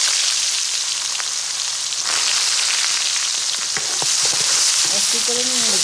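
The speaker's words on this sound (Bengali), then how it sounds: "দিয়ে দিলাম পেঁয়াজ কুচি," Chopped onions fry in hot oil in a wok, a steady loud sizzle with crackles and a few scraping stirs; a faint voice briefly sounds near the end.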